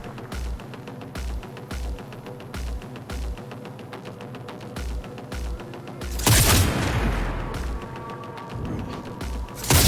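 Cyberpunk 2077 gunfire: steady, evenly spaced single shots about every half second, followed by a louder booming burst and rumbling noise, then more shots.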